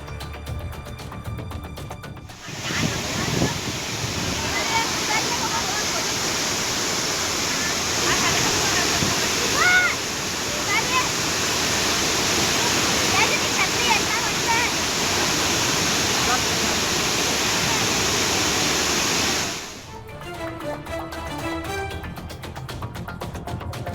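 Water from a lake overflowing after heavy rain roars steadily over a spillway like a waterfall, a loud, continuous rush lasting most of the stretch, with quieter sound at the start and end.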